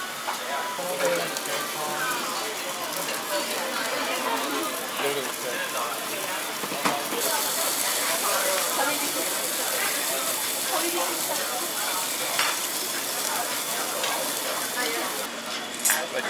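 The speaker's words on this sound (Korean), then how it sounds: "지금은 우설를 굽고 있어요" Beef tongue sizzling on a tabletop grill at a Tokyo yakiniku restaurant, a steady loud hiss and spatter that runs throughout, with diners chatting over it.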